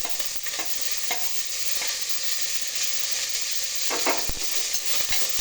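Onions and curry leaves frying in a pan after mustard and fenugreek seeds, a loud, steady close-up sizzle with a few scraping stirs and clicks.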